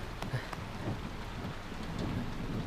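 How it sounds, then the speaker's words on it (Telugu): Heavy rain pouring down steadily, a dense continuous hiss and patter with low rumbling underneath, fairly faint and unbroken throughout with no voices. "వర్షం భయంకరంగా పడుతుంది."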